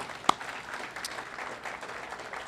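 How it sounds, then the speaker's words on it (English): Round of applause from a crowd at an outdoor ribbon cutting ceremony for a new building, a soft steady patter of clapping with one sharp near clap near the start. "Let's all first give Jeff a round of applause."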